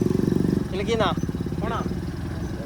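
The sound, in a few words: motorbikes passing on a bridge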